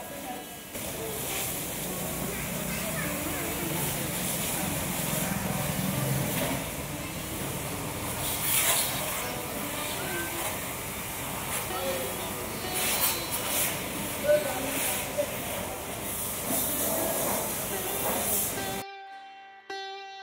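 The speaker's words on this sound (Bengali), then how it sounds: "এখন গাড়িটাকে একবার ধুয়ে দিচ্ছে" A pressure sprayer washes down a car in Jaipur, a continuous loud broadband hiss of water with occasional splashy bursts and faint voices in the background, cutting off near the end.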